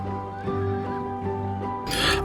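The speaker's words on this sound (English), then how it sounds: "horsemen and horses begin to arrive." Horses neigh at a Durbar festival in Nigeria: a drawn-out, trembling whinny ends in a loud, breathy snort, heard close and without talk.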